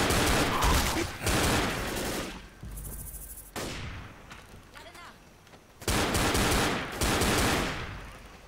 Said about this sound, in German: Du schießt mich einfach so an, ja?